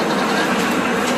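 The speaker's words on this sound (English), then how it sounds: "This year they've got a new Chance train. We're riding that right now." A Chance amusement park train ride runs at Indiana Beach with a steady, loud rumble and rolling wheel noise, close up and without talk.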